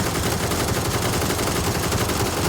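Rapid automatic gunfire in PUBG aimed at a glider, a dense continuous burst of shots filling the whole stretch at loud, steady level with no talk over it.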